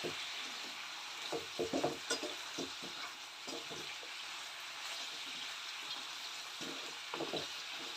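Salted chicken pieces frying in a pan while being stirred, a steady soft sizzle with intermittent scraping and clacking of the spoon, fairly close and continuous with no talking.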